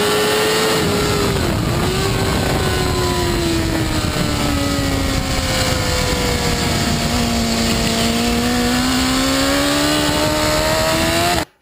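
A motorcycle on a race track accelerates with a loud, steady engine whine that climbs in pitch for several seconds before cutting off abruptly.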